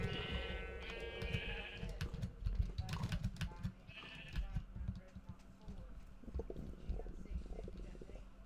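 Repeated sheep bleats from Minecraft, two short bursts of bleating over low rumbling game sounds and a speaking voice, with busier clattering in between.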